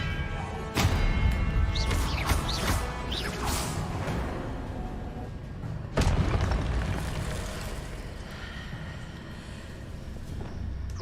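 The Expelliarmus disarming spell cast in Hogwarts Legacy on PS5: two sharp, loud whooshing blasts several seconds apart, each a sudden crack followed by a swirling, fading rush of sound.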